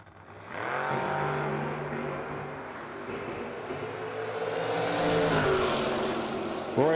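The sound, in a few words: drag race car accelerating against an Oldsmobile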